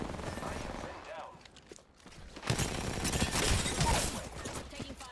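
Gunfire in Apex Legends: rapid bursts of shots crackle at moderate volume, dropping briefly before a heavier fusillade resumes, with a voice talking over it.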